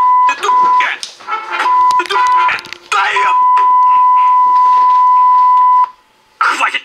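A steady electronic beep tone in a video game runs for several seconds under lively overlapping talk and game-like sounds, then cuts out briefly before chatter resumes.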